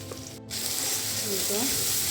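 Onion, garlic and ginger paste fries in a hot pan with a steady, bright sizzle that starts abruptly and holds close and loud, with a faint voice underneath.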